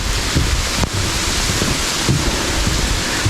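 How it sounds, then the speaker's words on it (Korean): Rain falls on a mountain hike, a loud, dense, continuous wash of noise with gusty rumbles and a few sharp taps, close and unbroken, with no talking. "지금 또 비가 또 많이 내리네요."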